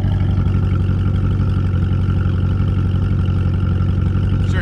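A 2014 Chevrolet Camaro Z/28 engine runs steadily nearby with a deep, even rumble and no change in revs throughout.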